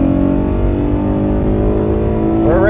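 An Acura TL engine rasps hard under acceleration at highway speed in snowy weather, a close, loud, buzzy drone that climbs in pitch near the end.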